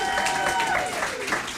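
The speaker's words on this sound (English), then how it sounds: "Give yourselves a round of applause, you beautiful folk." An early-morning show audience claps and cheers in a brief, dense burst, with voices mixed into the noise.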